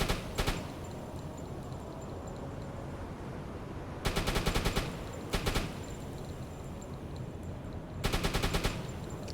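Bursts of rapid automatic gunfire from a submarine video game, four separate volleys of sharp repeated shots with quieter rumbling ambience in between.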